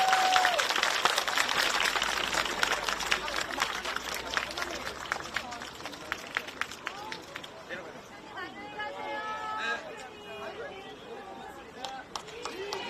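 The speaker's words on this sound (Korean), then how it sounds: "큰 박수 부탁드리겠습니다" Crowd applause and cheering at an outdoor Democratic Party campaign rally in Hanam, Gyeonggi, loud and sustained with dense clapping, murmuring voices and shouts mixed in throughout.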